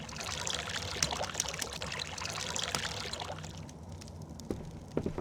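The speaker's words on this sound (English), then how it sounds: "take the water we've built up and store it in our barrels" Stored water is poured into barrels in the Frost Survival VR video game, giving a steady close splashing pour that thins to lighter trickles and drips near the end, with no talk.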